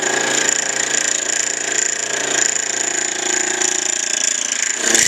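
A mini lathe cuts metal with a continuous close, loud grinding whine, steady throughout and surging briefly at the end as the cut reaches its limit.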